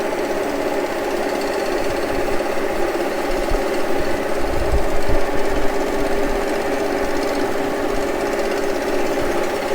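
A hand-fed milling machine cuts a gasket surface on a 1953 Harley-Davidson K model part, giving a steady, loud mechanical hum and grinding chatter that swells slightly midway.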